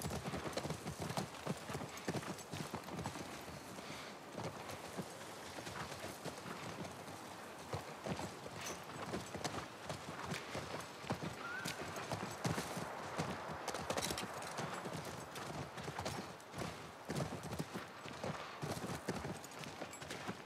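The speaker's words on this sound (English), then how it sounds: "That's our horse." Horse hooves in The Last of Us Part 1, a continuous rhythmic clip-clop of a moving horse lasting about twenty seconds at moderate volume over a faint game background.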